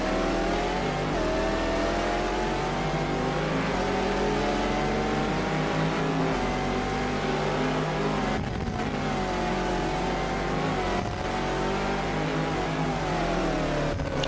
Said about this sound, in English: I can hear that Audi behind me again.